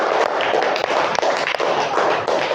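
Elementary-school classroom in Indonesia does a rhythmic hand-clapping game: a group claps in quick, loud bursts, with short sharp claps arriving in irregular clusters and a busy tapping texture between them.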